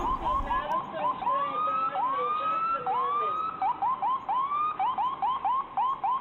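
An ambulance siren wails continuously, shifting between long rising sweeps and fast repeating yelps, loud and steady throughout with no voices over it.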